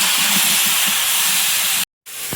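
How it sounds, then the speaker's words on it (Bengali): Pumpkin pieces frying in oil left from frying fish, with turmeric added, give a steady loud hiss and sizzle that runs unbroken, cuts to silence briefly near the end, then resumes. "মাছ ভাজার তেলের মধ্যে কুমড়োটা দিয়েছি, দিয়ে এখন একটু হলুদ দিয়েছি"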